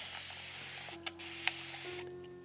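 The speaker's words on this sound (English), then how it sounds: "And just a spray mist" A spray mist bottle spritzes water onto watercolor paints in a 3D-printed palette, giving two short, soft hissing puffs over a quiet room with a faint steady hum.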